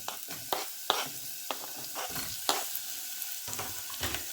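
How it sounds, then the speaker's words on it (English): Chopped red onion fries in oil in a pan, giving a soft sizzle that is broken by repeated scraping stirs at an uneven pace. The cooking is close and moderately quiet, and no one talks over it. "So there you go, onion chopped. Now fry it. Put some oil in there."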